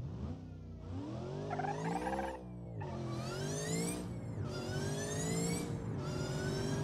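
A video-game car fitted with both a turbo and a supercharger, around 800 horsepower, revs hard in repeated rising sweeps, each climbing steeply before cutting off and starting again, loud and close with no talk.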